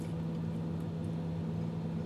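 An ambulance engine idles steadily with a low, constant hum and drone, unchanging throughout, with no voices.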